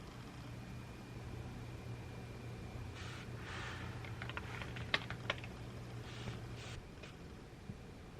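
Scattered key clicks from typing on a computer keyboard, a few short bursts and single taps, fairly soft over a steady room hum.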